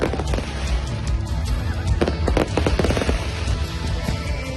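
Fireworks bursting in the sky over an outdoor Diwali festival celebration, a rapid irregular string of sharp cracks and pops, loud and continuous throughout.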